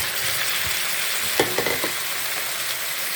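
Chicken pieces frying with garlic in a hot pan for chicken with pineapple, a steady broadband sizzle throughout with a few louder crackles and stirring clatters near the middle, no voices.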